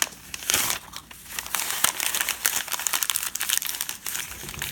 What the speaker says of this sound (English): take the paper and wrap it around that